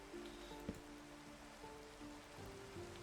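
Steady rain falls across a Minecraft world at dusk, a dense even hiss of drops spread over the whole stretch with a couple of faint clicks and tones from the game beneath it.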